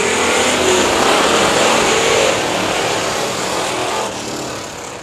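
Thundercar race cars, a bomber-class field, roar off at the green flag of a 25-lap feature at the Indianapolis Speedrome, a loud, dense and continuous engine drone that slowly fades as the pack pulls away.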